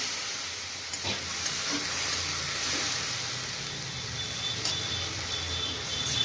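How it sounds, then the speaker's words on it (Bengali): Ginger, onion and garlic spice paste sizzles and fries in a pan as it is stirred, a steady close hiss with faint scraping strokes throughout. "এই মশলাটা আমি দিচ্ছি, দিয়ে আমি এই নাড়ছি"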